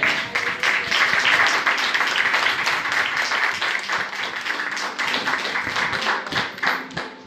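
A church congregation claps together after a sermon line praising Jesus Christ, dense sharp handclaps that swell early and then thin out toward the end.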